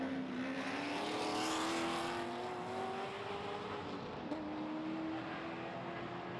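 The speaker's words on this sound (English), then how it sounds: "Up in front of the AI leaders, that is the leader in the ST5 class, that Porsche 914, Shane Sparks." A race car engine drones at high revs with rising gear pulls at a NASA road race where a Porsche 914 leads the ST5 class, a steady loud roar with whining harmonics and no voices.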